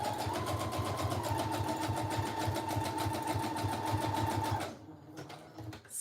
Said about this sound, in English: I'm gonna add a zigzag stitch. That's what I do if I mess up. And do zigzag.